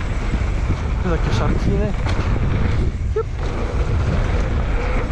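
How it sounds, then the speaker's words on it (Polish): Wind buffets the microphone on an open, treeless bike park slope, a continuous loud rumble with a person speaking briefly over it. "Nie ma lasu, to trochę wieje."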